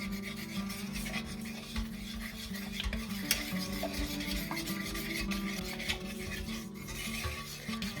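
Homemade deodorant ingredients, including baking soda, are stirred together in a bowl, giving a soft, continuous scraping and rubbing with faint clinks of a utensil, quiet and close, with no talking.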